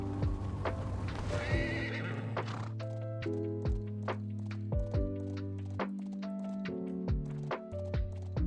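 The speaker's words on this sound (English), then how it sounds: "Alright, back on the horse." A horse in the video game AdventureQuest 3D whinnies once, then trots off with rhythmic hoof clip-clops and a few soft thumps over a steady, droning game music bed.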